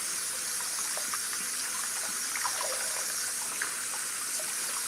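Hot water pours steadily from a tap into a sink, a continuous close gush that stays even throughout with no voices over it.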